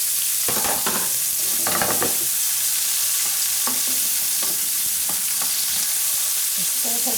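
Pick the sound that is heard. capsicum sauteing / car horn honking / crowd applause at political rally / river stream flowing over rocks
capsicum sauteing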